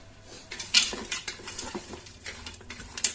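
Carrots tipped into a pot for a fish tajine, landing with a clatter and scraping of utensil against metal, light stirring taps and a faint background sizzle, fairly close.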